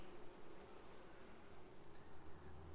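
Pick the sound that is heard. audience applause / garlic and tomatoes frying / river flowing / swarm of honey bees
swarm of honey bees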